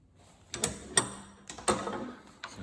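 A hand-cranked hose fitting crimping tool clamped in a vise, giving several sharp metallic clicks and ratcheting clunks spaced irregularly, close and fairly loud with no talk.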